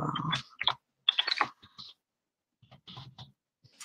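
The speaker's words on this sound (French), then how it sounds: "Vous commencez à avoir l'habitude de me voir taper sur mon clavier avant de démarrer." Scattered clicks from a computer keyboard being typed on nearby, in short irregular bursts with quiet gaps between them and no voices.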